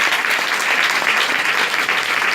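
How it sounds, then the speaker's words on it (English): Steady applause from a church congregation at a launch service, dense and continuous clapping throughout with no speech over it. "Let's clap hands for them"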